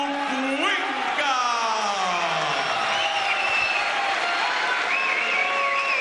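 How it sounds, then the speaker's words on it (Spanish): Applause and cheering from a kickboxing crowd at an Argentine title fight, continuous and loud throughout, with shouts and whoops rising over it and a voice speaking over the crowd. "Un aplauso de la gente de Paua."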